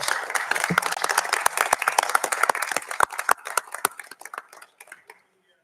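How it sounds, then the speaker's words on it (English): A room at a school district board of education meeting breaks into a round of applause, many crisp close claps that thin out into a few scattered ones before stopping. "If we could all give him a round of applause."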